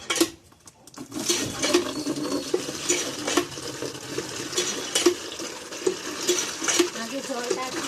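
Tap water runs steadily into a sink while raw meat is washed in a home kitchen, a splashing, gurgling stream with periodic clatters of handling, starting after a brief quiet moment and continuing to the end.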